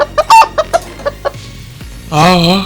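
An animated cartoon chicken clucks in a quick series of short, sharp calls, then lets out one longer drawn-out squawk, close and loud.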